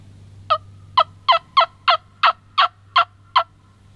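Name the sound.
wild turkey gobblers gobbling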